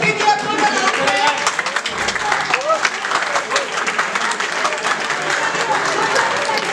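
An audience at a leadership talk on mindfulness and emotional intelligence claps in a dense, sustained round of applause, close and continuous throughout.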